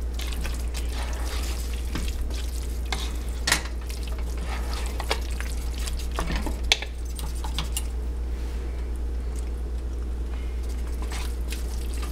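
Chicken tetrazzini sauce is stirred in a pot on the stove, a steady low bubbling simmer with soft scraping and occasional spoon knocks throughout.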